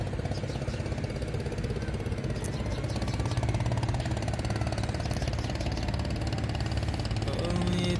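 Large cargo and oil tanker ship engines churn steadily on the Shitalakshya river at Narayanganj port, a continuous loud mid-pitched drone with a rhythmic knocking pulse, close and unbroken throughout.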